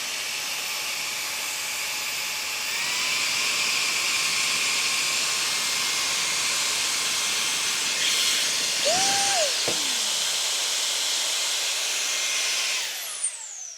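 Ryobi handheld leaf blower running at full speed, a loud steady high-pitched whine with a rushing hiss of air that holds for the whole stretch, with a brief rising tonal sweep near the end.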